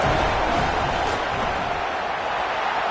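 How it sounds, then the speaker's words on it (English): A football stadium crowd roars loudly and continuously before a field goal attempt, a dense, sustained wall of cheering and yelling with no clear breaks. "This crowd trying to do its part to get inside the kicker's head."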